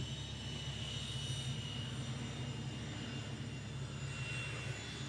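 A tri-jet airliner flies over Honolulu airport with a steady, loud engine roar and a high whine that holds continuously, no voices over it.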